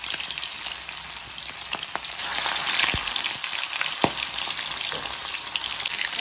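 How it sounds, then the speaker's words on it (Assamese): Magur fish is frying in hot oil with a steady, crackling sizzle heard up close, punctuated by a few sharp pops and clicks. "তেল গৰম হ'ল আৰু আমাৰ বহাই দিলোঁ এতিয়া মাছ"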